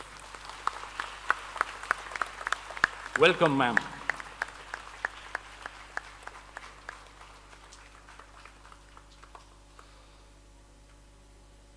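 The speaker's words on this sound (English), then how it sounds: "with a loud, thunderous round of applause" Audience applause at an annual award ceremony, scattered claps building to a brief dense burst near the middle, then thinning to sparse claps, with a voice speaking over it.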